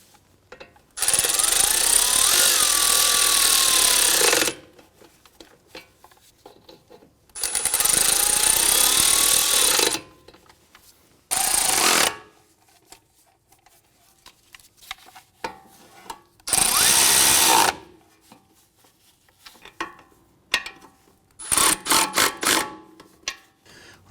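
Power tool snugging bolts on the front upper control arm of a 2004-2008 Acura TL, several loud bursts of whirring and hammering lasting a few seconds each, separated by quiet gaps with small clicks, close by.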